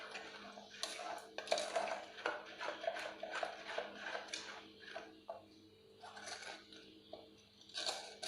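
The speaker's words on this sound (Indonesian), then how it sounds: "kemudian kita akan memasukkan sari sirsaknya ke dalam air gulanya. Kemudian setelah itu kita aduk hingga merata" Soursop juice being stirred into melted sugar water, a utensil clinking and scraping against a pot or bowl in irregular, close taps and rattles that continue throughout without any talking.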